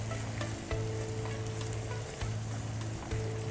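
Bottle gourd frying and being stirred continuously in a pan as it is cooked into a sweet dish, with a steady loud sizzle and a recurring low scraping hum from the stirring, close up and without talk.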